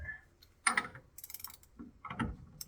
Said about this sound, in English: we will actually just tighten it down to 70 inch-pounds